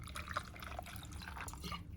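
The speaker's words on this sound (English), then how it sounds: "let's pour the booze" Whiskey poured over mostly ice in a glass, a soft close liquid trickle with faint drips and clinks, steady for about two seconds at low level.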